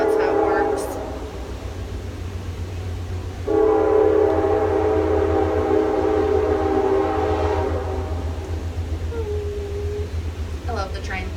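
A train rumbles past at night with a long sustained horn blast sounding over the low steady roar, moderately close, fading toward the end.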